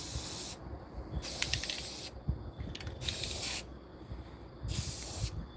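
A spray can hisses in several separate bursts, each a second or so long with short pauses between, sounding close and sharp against a quiet background.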